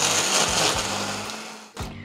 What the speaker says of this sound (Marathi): आणि हे छान मिक्सरमध्ये फिरवून घेऊयात.